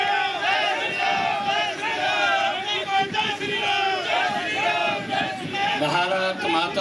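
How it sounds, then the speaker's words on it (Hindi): A large crowd at a Haryana political rally roars and cheers continuously in welcome for Chief Minister Nayab Singh Saini, a dense, loud wall of voices with little distinct clapping. "तालियां बजा करके आप उनका"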